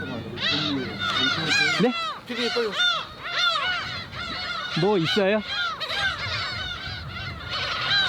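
Black-tailed gulls call from a nesting site on an uninhabited island, their harsh, overlapping cries rising and falling continuously, loud and close, while people briefly speak over the flock.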